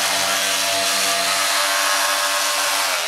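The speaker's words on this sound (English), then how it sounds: "So what I want to do is just rough sand everything." Steady, loud abrasive whir of a power sander roughing the surface of a 1972 Honda CB175 fuel tank, continuous and close throughout with no voices.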